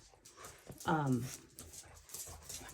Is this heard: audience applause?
no